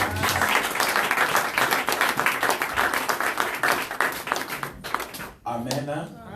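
A church congregation applauds the apostolic couples, with dense, loud clapping for about five seconds that breaks off briefly before resuming with voices mixed in.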